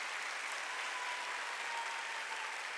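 A church congregation claps together during a Wednesday worship service, a steady dense wash of applause that holds loud and even throughout with no pause.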